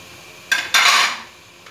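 Besan and coriander wadi batter mixed in a pot: two short, close scraping strokes of a spoon against metal, the second longer, then fading to quiet.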